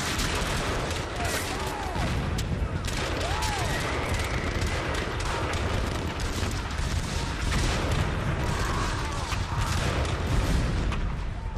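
A dense, continuous roar of massed Civil War rifle and cannon fire at the Battle of Kennesaw Mountain, booming and crackling without pause, heavy and loud throughout.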